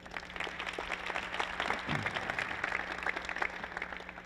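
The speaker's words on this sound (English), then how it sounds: "Give them a round of applause for that." Audience applause at a physical education conference talk, a steady wash of clapping from a large room at moderate level, sustained for several seconds without voices.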